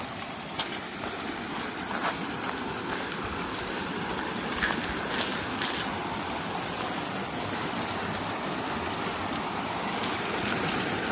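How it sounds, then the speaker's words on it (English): Fast-running stream water on a hot springs hiking trail, a steady, full broadband rush that holds constant throughout with no voices over it. "that's the sound of fast running water"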